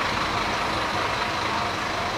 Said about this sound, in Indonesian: Cuma rekam bis Transjakarta. Ini mesin sakangnya.